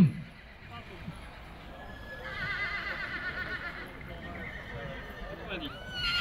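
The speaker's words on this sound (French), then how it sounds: "On fait trotter les poulains." Foals are trotted at a horse sale, with a clear whinny and the soft clip-clop of hooves under a crowd's murmur and voices.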